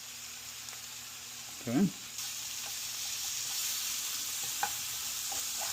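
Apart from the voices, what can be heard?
artichokes sizzling as they fry in a pan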